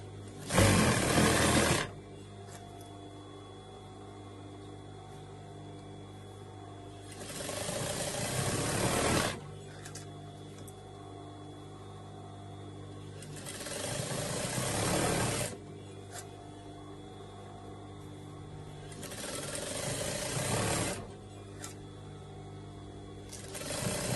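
A sewing machine stitching a seam in short pajama bottoms, running in four separate bursts of rapid mechanical whirring with quiet pauses between them, no voices.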